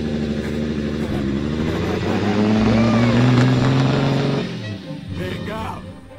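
An expensive car drives past, its engine hum swelling louder over a few seconds before dropping away, with voices in the background.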